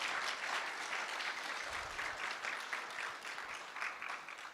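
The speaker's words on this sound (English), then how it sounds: "a big round of applause for everybody" An audience at a guide dog class graduation claps steadily and densely throughout, a faint, even wash of applause with no speech.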